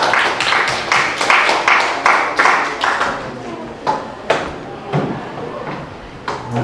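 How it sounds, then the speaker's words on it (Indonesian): A classroom audience claps for a student named Sarah in a biology lesson on the plant kingdom, with scattered, uneven hand claps that start strong and thin out into a few separate claps near the end. "kita kasih tepuk tangan dulu untuk Sarah ya"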